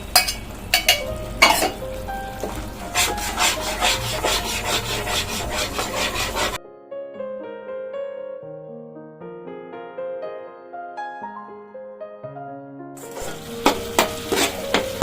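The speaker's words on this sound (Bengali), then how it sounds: "এবার আমি আদা রসুনের পেস্টটা দিয়ে দেবো। এটাও কিন্তু ভালো করে কিন্তু ভাজতে হবে।" Ginger-garlic paste being fried and stirred in a pan for a fish kalia: harsh scraping and sizzling at the start, then a stretch of background music, and the scraping returns at the end.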